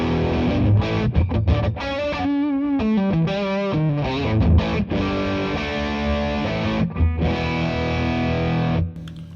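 Fuzz-distorted electric guitar plays a thick, saturated riff with sustained chords and bending notes, loud and alone.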